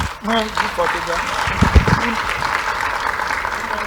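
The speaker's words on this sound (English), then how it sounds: "Shall we give them a round of applause?" An audience at a food systems transformation side event applauds a panel as it leaves the stage, a steady wash of clapping that carries on under a speaker's voice.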